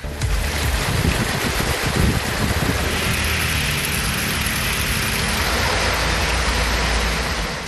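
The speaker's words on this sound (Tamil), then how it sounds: "வேலூர் மற்றும் அதைச் சுற்றியுள்ள இடங்களில் திடீரென கனமழை வெளுத்து வாங்கியதால் வாகன ஓட்டிகள் அவதியடைந்தனர்" A sudden heavy downpour in Vellore makes a loud, continuous rushing roar that stays constant throughout, with no speech.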